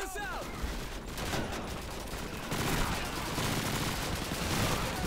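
Sustained gunfire from the Russian campaign of Call of Duty 2, a dense, continuous crackle of weapons fire that runs the whole stretch at steady loudness, with some voice mixed in.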